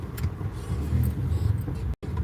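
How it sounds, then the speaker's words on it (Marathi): A red Hyundai i10 drives along at night in traffic, giving a steady low engine rumble from inside the car. A few faint voices and noises sit over the rumble, which cuts out briefly near the end. "गाडी कोणती आहे गाडी आपली आय टेन आहे रेड ची"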